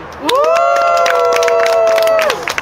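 A crowd cheers after a marathon run, with a loud sustained shout rising over scattered claps for about two seconds, then fading.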